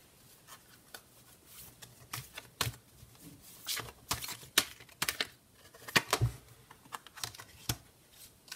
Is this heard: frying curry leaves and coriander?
no